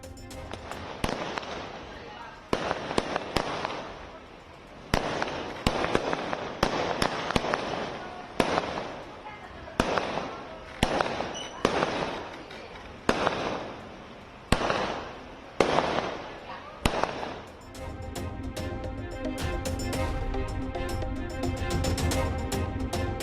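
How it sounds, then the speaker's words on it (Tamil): Repeated sharp firework bangs and firecracker pops echo in irregular bursts at midnight during a celebration, then a dense continuous crackle of firecrackers takes over, loud and nearby. "பட்டாசுகளை வெடிக்கவிட்டு நள்ளிரவில் நடந்த வான வேடிக்கை"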